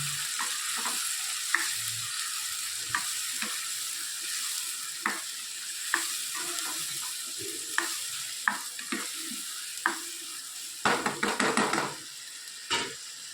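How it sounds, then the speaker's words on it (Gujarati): Cinnamon stick and bay leaf roast in a hot pan with cloves, a soft steady sizzle broken by repeated scrapes and clinks of a spoon stirring, with a cluster of louder scraping near the end. "અને તજનો ટુકડો અને તમાલપત્ર. સરસ બધું આપણે શેકી નાખ્યું."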